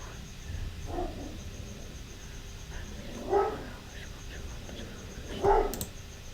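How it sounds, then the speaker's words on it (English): A dog barks in the background of a room, faint and distant, with a few isolated woofs spaced seconds apart over low room noise. "My bad about the stupid dog in the back"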